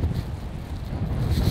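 Gusty wind buffets the microphone in a castle's back garden on a blustery day, a steady low rumble that swells and surges toward the end, with no other sound standing out.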